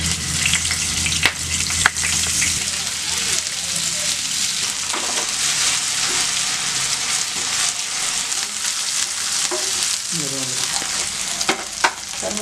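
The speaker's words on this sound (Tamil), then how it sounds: "இருக்க சிக்கனையும் அதிலே போட்டு நம்ம பொரிச்சிடலாம்." Chicken pieces deep frying in hot oil for honey chicken, a loud, dense bubbling sizzle with occasional clinks and stirring, close, with a brief voice in the background near the end.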